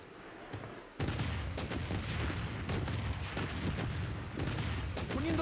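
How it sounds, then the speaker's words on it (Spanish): Heavy explosions and gunfire from an airstrike in the shooter game Blood Strike, beginning with a loud burst after a quieter opening and continuing as dense, overlapping blasts and rapid shots throughout. "Solicita un bombardeo aéreo."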